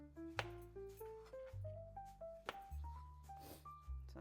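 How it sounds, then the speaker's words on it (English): A knife slices plantains on a board in about five soft, separate thuds, spaced irregularly beneath steady melodic background music. "Just slice it to your liking."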